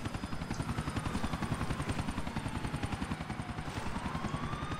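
A police helicopter in the video game GTA IV approaches with a steady, fast rotor thump that stays loud and close, its pulses beating evenly under a faint engine whine, with no talk.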